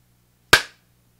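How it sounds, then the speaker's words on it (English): A single sharp clap rings out once, crisp and close, then fades quickly into near silence. "Let's go clap it."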